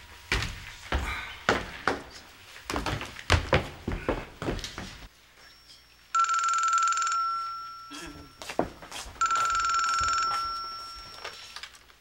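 A telephone rings twice with a steady electronic trill, separated by a short pause, after a stretch of voices and bumps.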